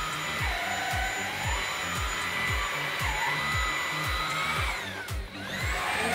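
A Dreame cordless vacuum cleaner runs with its brush head on carpet, a loud steady whine over a rhythmic low thumping from repeated strokes, pitch shifting as it is pushed and pulled.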